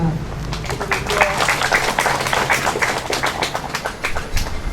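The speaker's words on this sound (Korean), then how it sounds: "한 분 한 분 소개할 때마다 큰 박수로 환영해 주시기 바랍니다" A crowd applauds introduced guests at an outdoor groundbreaking ceremony for a black pork processing and distribution center, a steady clatter of many hands under a speaking voice.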